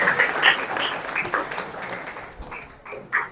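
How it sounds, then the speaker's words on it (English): A workshop audience gives a round of applause, moderately loud clapping in a room that thins into a few uneven claps toward the end. "Give it a round of applause, guys."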